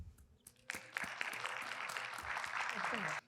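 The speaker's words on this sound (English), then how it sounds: "Please welcome him with a round of applause." Applause from an education conference audience greeting a keynote speaker swells after a few scattered claps and holds as steady clapping before cutting off, with faint talk early on.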